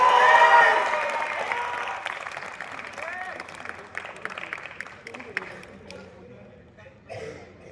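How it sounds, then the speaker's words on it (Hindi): Audience applause welcoming a poet on stage at a college poetry event, loud at first and then tapering off into scattered claps and a few coughs, with a voice speaking over the start. "स्वदेश, जोरदार तालियों से इनका स्वागत कीजिए।"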